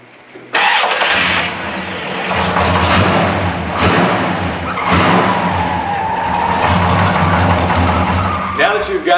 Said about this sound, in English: let's take this Plymouth Fury to the drag strip.